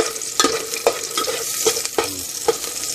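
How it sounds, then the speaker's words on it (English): Oxtail being stirred with a spoon in a hot pot, for Chinese-style oxtail: steady sizzling with sharp scraping clacks of the spoon against the pot at irregular intervals. "I got this spoon and stir it around."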